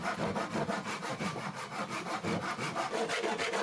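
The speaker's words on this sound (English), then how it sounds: "then cut using a pull saw" A pull saw cuts through a wooden dowel in quick, even rasping strokes, close and clear with no talking.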